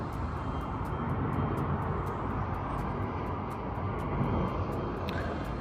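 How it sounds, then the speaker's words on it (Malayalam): A distant airplane drones steadily overhead, heard from a hotel balcony in Canada, a low continuous roar blending with faint background traffic and periodic light ticking. "ഈ ഒരു ഫ്ലൈറ്റ് പോകുന്നു"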